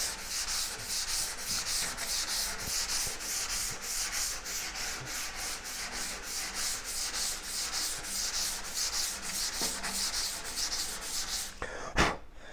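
A sanding block scuffs steadily across a soft aluminum drag bike body in a rapid, even back-and-forth rhythm, close and continuous for most of the stretch, ending with a brief sharper knock.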